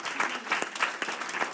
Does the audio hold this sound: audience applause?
yes